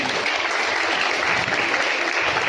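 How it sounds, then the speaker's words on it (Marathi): Students clap loudly for the science day projects at a school in Marol, a dense, continuous roar of many hands from nearby that holds steady throughout. "ज्यांनी प्रोजेक्ट केले त्या सगळ्यांसाठी जोरदार टाळ्या वाजवल्या"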